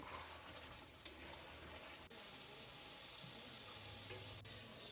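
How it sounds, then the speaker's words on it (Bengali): Chicken with turmeric being stirred and fried in a pan, a quiet, steady sizzle broken by a few soft clinks of the spoon against the pan, close and faint, with no voices. "এবার নেড়ে নিচ্ছি জিনিসটা ভালো করে কষিয়ে নিচ্ছি"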